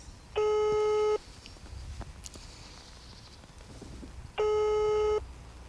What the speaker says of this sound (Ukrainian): Після кількох гудків зв'язок переривається.